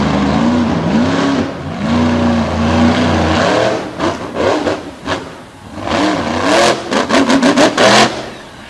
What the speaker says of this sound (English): 468 cubic inches in the back of this big bad Silverado